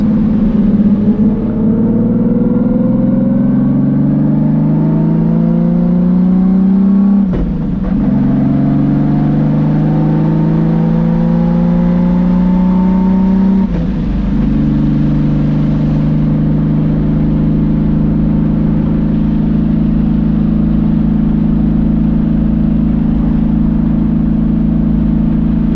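A Nissan S14 with a 2JZ engine and an R154 dogbox gearbox driving: a loud, steady engine drone whose revs rise and then dip twice, as at gear changes, before settling into an even cruise.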